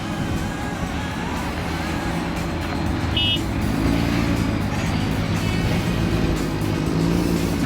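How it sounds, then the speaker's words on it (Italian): A heavy truck loaded with logs goes by on a busy road just after a group of motorcycles, making a loud, continuous engine roar and tyre noise that stays close throughout. "guardate poi, dopo le moto, un camion pazzesco carico con tronchi"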